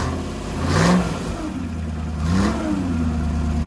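Rover V8 3500 engine running on a dyno, revving up twice in smooth swells over a steady throaty idle, close and loud.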